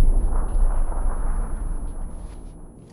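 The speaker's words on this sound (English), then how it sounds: "There's a nade on me. It's thrown at me from northwest." A grenade blast in PUBG, a heavy low rumbling boom that rolls out and slowly fades over a few seconds, close and loud with no talk.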